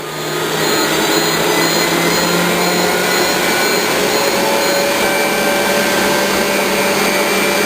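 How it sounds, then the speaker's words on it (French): A kitchen robot whips egg whites at speed 6 for an Italian meringue, cooling toward 45 degrees while making macarons: a steady, loud, even motor whir fills the whole stretch with no talk. "Le robot a battu les œufs jusqu'à ce que la température redescende à 45 degrés."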